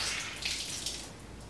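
Hot water poured over a wool hood, a soft continuous splashing and trickling that is fairly quiet and close, with no voices.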